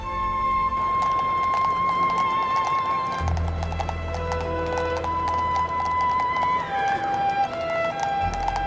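Horses and carriages move over a stone street in 1700s Paris, with steady clip-clop of hooves, rolling wheels and an occasional whinny, dense and busy against a constant background hum and tones.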